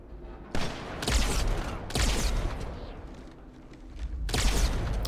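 Beam rifle fire in the Halo 2 Legendary campaign mission Metropolis, heard as a few loud sharp blasts spaced over several seconds, each with a booming low tail, over continuous game background noise.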